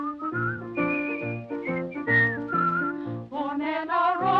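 A person whistles a bright melodic tune alone, clear sustained notes in quick phrases, close and steady with no talking, in an old-time radio drama.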